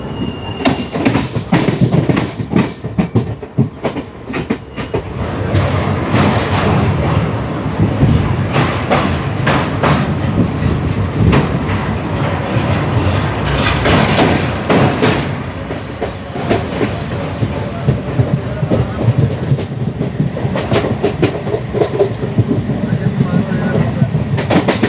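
A Vasai–Diva MEMU local train runs loudly and continuously, its wheels clattering in rapid rhythmic clicks with occasional squeals, and some voices faint beneath the rumble.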